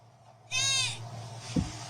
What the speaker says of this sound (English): That sounds like a goat. That's a goat.